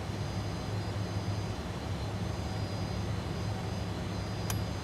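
Jet engines of a Fokker F28 airliner in Microsoft Flight Simulator 2020, a steady low rumble and hum during taxi with no pause, plus a brief high click near the end.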